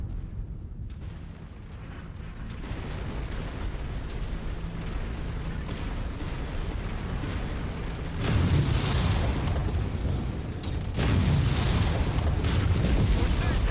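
Booming mech explosions in MechWarrior 5 rumble over continuous battlefield noise, with a louder blast swelling around the eighth second and another near the eleventh.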